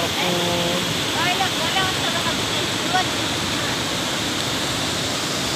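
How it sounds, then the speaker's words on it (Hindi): The Chandan Dhara waterfall roars as a constant broadband rush of falling water, loud and steady throughout, with faint bird chirps and brief tones over it. "देखु चंदनदरा वाटरफल"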